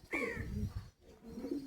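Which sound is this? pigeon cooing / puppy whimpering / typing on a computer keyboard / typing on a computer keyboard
pigeon cooing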